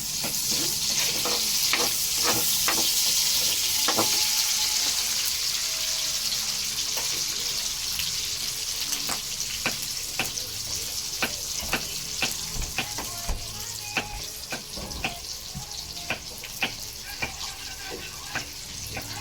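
Onion frying in a pan where fish skin was already cooking for flavor, heard as a loud, dense, continuous sizzle up close with many sharp crackles and pops throughout.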